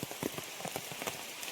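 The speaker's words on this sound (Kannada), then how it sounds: "ಇಲ್ಲಿ ಮಳೆ ಬರ್ತಾ ಇತ್ತು ಈಗ." Rain falls on nearby surfaces with a dense, even patter of individual drops over a soft continuous wash, heard alone with no talking.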